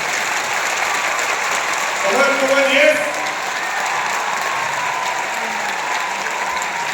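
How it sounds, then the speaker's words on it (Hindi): A crowded team meeting in Lucknow, team A clapping for itself with full energy: dense, steady applause fills the whole stretch, with a brief swell of cheering voices near the middle. "आप अपने लिए पूरे जोश के साथ तालियां बजाएंगे"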